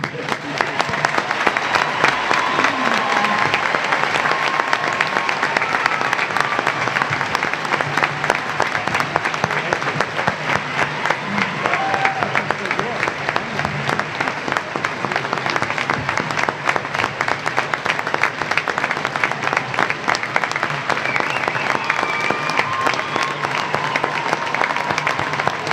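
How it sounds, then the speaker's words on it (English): Sustained audience applause at a Fall Quarter 2015 graduation ceremony, honoring a Japan Maritime Defense Force lieutenant commander; dense, steady clapping fills the hall for the full stretch with faint murmuring voices beneath. "Round of applause for the..."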